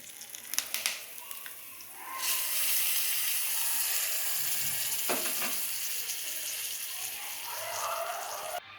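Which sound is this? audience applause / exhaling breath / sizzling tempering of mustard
sizzling tempering of mustard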